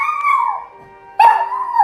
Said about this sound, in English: There's my dog chiming in.